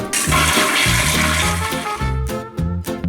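A toilet flushes in a bathroom, a loud continuous rush of water under steady music, tapering off near the end.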